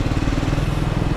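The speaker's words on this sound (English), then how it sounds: "This motorcycle, it has no dead zone in its rev range from the bottom" Triumph Speed 400 single-cylinder engine pulling at very low revs, a steady close, loud chugging thrum with a fast even pulse and no voices.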